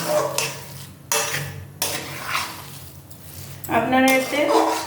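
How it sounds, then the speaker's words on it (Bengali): Coconut ladoo mixture is stirred in a pan, with close, intermittent bursts of a spoon scraping against metal, separated by brief pauses. "এবারে এটাকে নাড়তে হবে কিছু, খানিকক্ষণ নাড়লেই তাহলে পাক হয়ে গেলেই ব্যাস নাড়ু বানাবো।"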